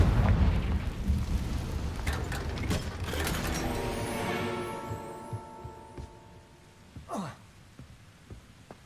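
Confringo fire spell exploding in the video game Hogwarts Legacy: a loud, booming burst that rings with tonal layers and fades over several seconds, followed by a brief whooshing flare near the end.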